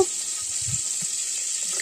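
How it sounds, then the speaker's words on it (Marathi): Steady, bright sizzling of four or five garlic cloves frying in hot oil, a constant hiss with no voices. "आता यामध्ये मी चार ते पाच लसूण पाकळ्या घातलेल्या आहेत याने आमटीला खूप छान चव येते लसूणच्या फोडणीने"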